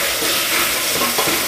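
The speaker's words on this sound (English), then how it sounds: "A couple quick little stirs and you should be good to go." Pasta being stirred in a hot pan with olive oil, a steady close sizzle with soft scraping stirs over a short stretch, no talking.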